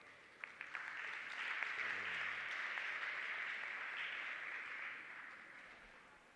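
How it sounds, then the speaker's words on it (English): An audience at a community safety forum at Mopani TVET College applauds the acting campus manager. A few early claps grow into a steady, fairly distant round that fades away gradually. "Let's give him a big round of applause."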